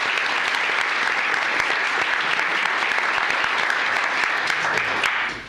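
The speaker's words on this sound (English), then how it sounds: "let's give it a round of applause for our 20 years" Applause at a county commissioners court meeting honoring 20-year employees, dense sustained clapping from a roomful of people that carries on evenly for about five seconds before tapering at the end.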